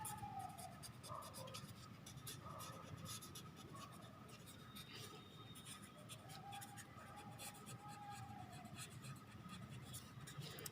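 Chalk or marker scratching steadily across a classroom board during a seventh-grade maths lesson, a continuous dry scraping through the whole stretch with faint background noise and no clear talk.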